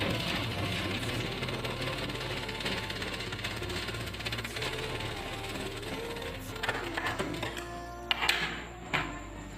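An electric sewing machine runs a double seam on a blouse, a steady rapid mechanical whir and clatter that continues before trailing into a few scattered clicks and knocks near the end.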